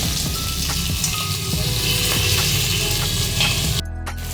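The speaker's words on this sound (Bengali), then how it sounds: "এবার অন্য পিঠ ভাজার জন্য মাছগুলোকে উল্টে নেব।" Pieces of rohu fish fry in hot oil in a pan with a steady, dense sizzle and crackle that runs continuously, then drops suddenly near the end. No one speaks.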